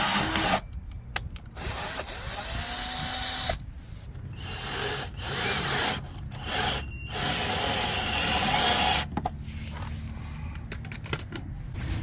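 Cordless screwdriver driving stainless self-tapping screws into a plastic fender liner on a Lada Niva Urban, with whirring bursts and squealing bites as the screws grip, broken by short pauses, close up.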